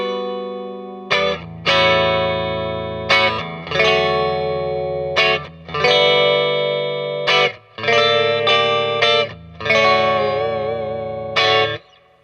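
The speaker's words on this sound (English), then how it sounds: "so now we are both pickups in parallel with the bass cut switch." A Fender Johnny Marr Jaguar electric guitar with both pickups in parallel and the bass cut switch on plays strummed chords that ring out with a warm, chorused shimmer, several phrases in a row, no voices.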